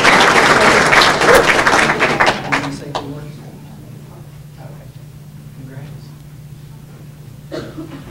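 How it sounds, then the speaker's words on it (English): Audience at a school board meeting applauding a high school bowling team, a dense burst of clapping that fades within a few seconds, followed by scattered coughs and quiet room noise. "Y'all give them a round of applause."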